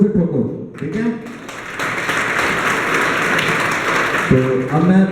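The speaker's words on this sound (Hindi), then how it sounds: "तालियां जोर से ठोको, ठीक है।" A seminar audience applauds in a long, dense burst of clapping that fills most of the clip, with a voice speaking before and after it.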